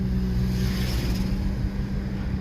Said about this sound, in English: And now you'll notice as we drive this car